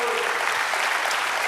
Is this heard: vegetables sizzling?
no